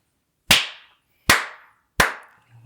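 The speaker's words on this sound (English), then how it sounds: "All right, we're clapping then." Podcast hosts clap their hands three times, sharp and evenly spaced, each clap ringing briefly into an otherwise quiet room.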